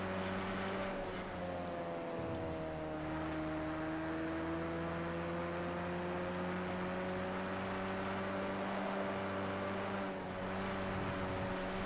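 Sim racing car engine droning steadily through laps, a sustained whirring tone with shifting pitch as it accelerates and lifts, continuous and fairly quiet with no voices.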